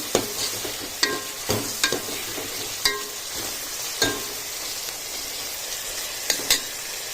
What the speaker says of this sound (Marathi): आता तितून आमी टमाट घालया आनी मातशें बरें फ्राय करया